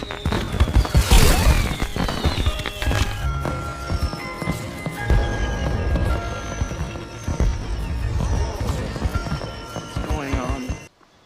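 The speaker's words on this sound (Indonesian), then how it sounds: "Lalu keluar banyak sekali kembang api dari mobil si Bill." Fireworks burst out of a car that has crashed into a tree during an event in the 2007 film Meet Bill, a dense, loud stretch of crackling and popping that runs for about ten seconds before cutting off abruptly.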